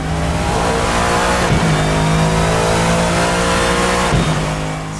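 A Lexus GT3 race car in Assetto Corsa roars loud and close as its engine climbs steadily through the revs, with two quick gear shifts breaking the rising pitch.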